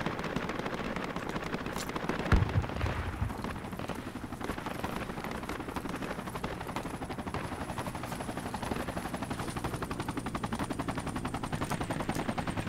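Sustained automatic gunfire aimed at a manned enemy base on a hill in a military video game, rapid bursts over a helicopter-like background drone, fairly faint and continuous with one sharper thump.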